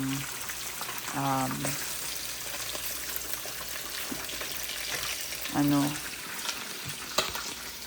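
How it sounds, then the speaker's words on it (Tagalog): Food fries in a pan with a steady crackling sizzle, broken by occasional stirring scrapes, and brief tonal sounds come through the background. "Kaya puro prito na lang ang i-prepare ko ngayon."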